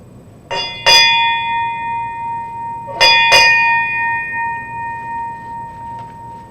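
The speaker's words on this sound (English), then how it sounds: "I will then ring this memorial bell twice, pause, and then twice again." A memorial bell at a suicide awareness and remembrance ceremony rings twice, pauses, then rings twice more, each loud clear strike leaving a long sustained ringing tone that decays slowly.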